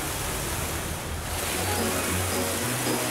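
In an animated cartoon about dinosaurs and heavy machines, water rushes and splashes in a dense, steady wash of noise that swells slightly partway through, with no voices over it.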